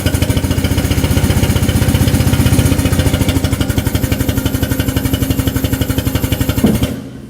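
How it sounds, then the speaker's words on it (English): An air-powered hydraulic system on an ATEX forked stacker runs with a loud, rapid, steady pneumatic pulsing close by, holding an even rhythm before abruptly dropping away at the end. "So we plug in our airline, and our airline powers the hydraulic system"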